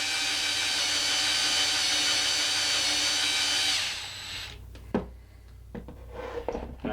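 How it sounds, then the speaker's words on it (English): A power drill bores into the metal head of a bolt set in a plastic handle body, a loud steady whine that stops partway through, followed by a few clicks and handling knocks. "you want to make sure that you're drilling into the head of the bolt and not into any part of the plastic of the body"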